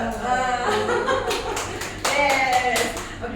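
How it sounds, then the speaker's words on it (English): An audience at a communication skills session claps together in a brisk burst of applause, close and lively, with voices talking over the clapping. "give a big applause for yourself, and also you pat your friends"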